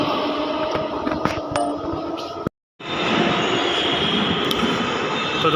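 A Delhi metro train runs at night with a steady loud rumble and rail roar, wheels hissing, a sudden brief dropout midway, heard from inside a fairly empty carriage.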